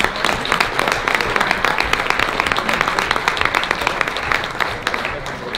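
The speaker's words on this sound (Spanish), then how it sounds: "Un aplauso fuerte." Loud, sustained applause from an audience at a university ceremony honoring a rector in Guerrero, steady dense clapping throughout with crowd noise mixed in.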